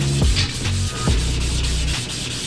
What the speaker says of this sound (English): Or we could sand. Sanding is fun too,